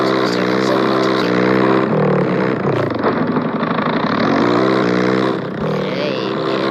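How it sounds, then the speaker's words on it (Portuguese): A motorcycle engine runs close by with a loud, steady harmonic drone and slight pitch shifts as it idles and revs, with a voice briefly mixed in. "Vou mostrar pra essa moto aqui."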